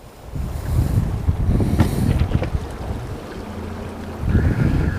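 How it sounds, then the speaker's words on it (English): A southerly wind buffets the microphone while fishing from a small boat, making a loud, low, gusty rumble over faint water and waves. "I've got a wind that's blowing from the south"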